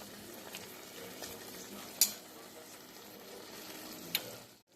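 Sauce sizzles in a hot pan while being stirred in, a steady soft crackle with a couple of sharp utensil clicks against the pan, fairly close and alone.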